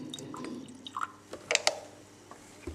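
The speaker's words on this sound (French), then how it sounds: "Et j'introduis le jus d'orange pressé." Freshly squeezed orange juice poured into a beaker holding a potassium permanganate and vinegar solution, soft splashes and drips with a few brighter plinks, close and quiet.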